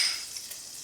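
Vegan butter with extra virgin olive oil sizzles in a pan, a brief, steady hissing fry heard alone.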